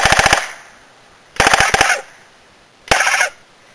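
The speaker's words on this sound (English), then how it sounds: "That goose call sound is usually indicative that the gun is cold or there is not sufficient oxygen or too much propane getting through to the gun" Three bursts of rapid, loud popping from a cold propane-oxygen gas gun running short of oxygen, each burst a quick rattling series of sharp reports with a honking, goose-call quality, separated by brief pauses, no talk.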